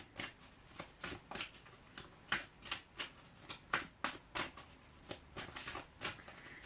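Tarot cards being shuffled and laid out, a quick run of crisp riffling flicks in a steady rhythm, close up and fairly quiet, with no voices.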